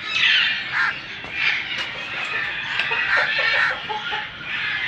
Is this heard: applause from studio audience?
no